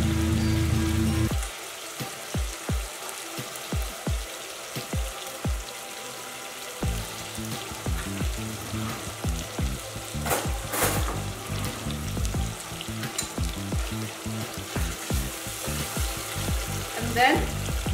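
Tomatoes frying in a pot for pilau give a steady crackling sizzle with soft stirring taps, close by and continuous with no talk.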